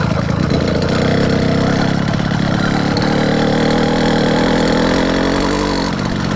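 A small 80cc two-stroke engine on a motorized bicycle runs steadily and loudly close by, holding a buzzing drone with slight rises in revs and a somewhat choked exhaust note, with no speech over it.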